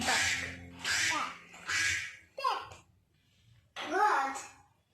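A toddler imitates a duck, giving four nasal, raspy quacks in a row followed by a pause and one more, close and clear with nothing else around.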